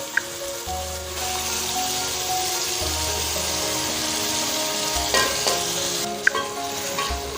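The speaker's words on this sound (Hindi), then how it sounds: "अभी इसमें हम कोफ्ते डालेंगे।" Beef koftas going into softened frying masala for a restaurant-style kofta curry, giving a steady loud sizzle with stirring and scraping throughout and a few sharp utensil clinks near the end.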